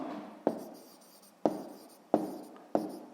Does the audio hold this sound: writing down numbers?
yes